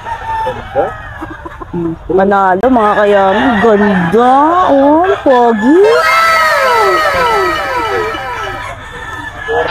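Gamefowl roosters at a crowded cockfighting venue crow repeatedly and cluck, some calls near and loud, others overlapping further off, while someone talks over them and a crowd murmurs behind.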